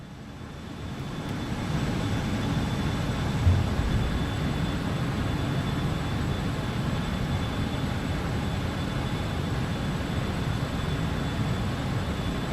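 A BAe 146-200 airliner in Microsoft Flight Simulator 2020 gives a steady, even engine roar and cabin hum that builds in over the first seconds and then holds constant, with no speech.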